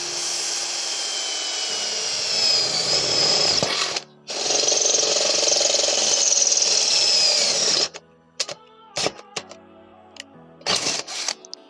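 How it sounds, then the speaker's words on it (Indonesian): A Worksite CD306-12L-C 12V cordless drill boring into steel, two long sustained high whining runs with a brief pause between, then several short bursts and clicks, loud and close. "untuk mengebor besi sih enak-enak aja"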